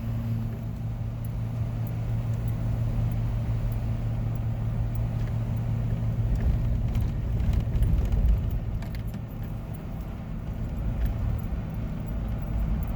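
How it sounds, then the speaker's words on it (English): A big old diesel pickup drives down a winding switchback mountain highway, State Route 288 in Arizona, its steady low engine drone and road rumble heard from inside the cab, continuous and fairly loud throughout. "today I'm riding with Kevin in his big old diesel pickup"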